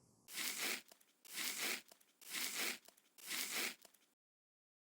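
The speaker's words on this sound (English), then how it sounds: "Time to cut it in even slices." A knife slicing through a log of rolled cinnamon roll dough, four separate crunchy, tearing cuts, each about half a second long, evenly paced and close up, then silence.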